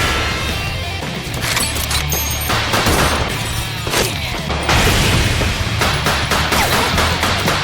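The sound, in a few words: sniper rifle gunfire exchange in anime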